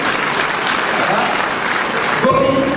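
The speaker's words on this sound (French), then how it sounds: "Applaudissements pour le deuxième." Steady, dense applause from a crowd fills the whole clip at a young cattle judging contest for Montbéliarde cows, with a voice briefly speaking over it near the end.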